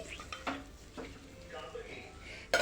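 Chicken frying in a pan while being stirred: a faint sizzle with a few scraping sweeps and a sharp clink at the end, close and quiet, without speech.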